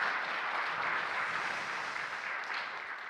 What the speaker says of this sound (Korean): 그동안 섬김이들께서 꽃다발 박수 좀 부탁드리겠습니다.